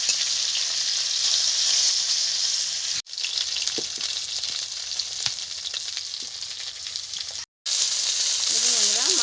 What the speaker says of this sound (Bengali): মাছগুলোকে উল্টে পাল্টে আমি ভালো করে ভেজে নেব